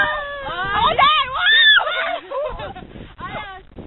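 Several people shout and scream together at once, with loud, high, wavering cries that overlap in bursts and then break into shorter yells.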